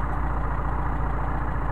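A Mercedes 190SL with Solex carburetors idles steadily up close, its low, even engine rumble running without a break and with no voices over it.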